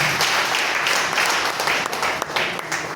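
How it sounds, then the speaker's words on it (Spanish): Church congregation applauding during a Spanish-language service, a dense, steady wash of clapping from many hands filling the room, loud and continuous throughout. "Dale un aplauso y ponte de pie."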